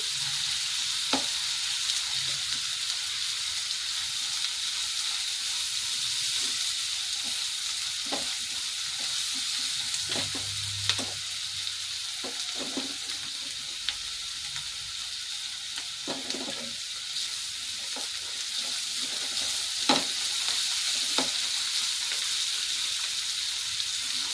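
Onions fry in a pan for sweet corn rice, a steady broadband sizzle with scattered clicks and scrapes of stirring throughout, close and continuous with no talk.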